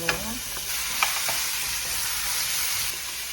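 Onions and mushrooms stir-frying in a pan for a beef, shrimp and vegetable dish, a steady close sizzle with a few scraping utensil knocks near the start.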